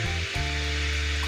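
A short, steady sizzle as tomato, onion and green chili paste goes into hot oil with fried garlic, close and continuous, with a low hum underneath.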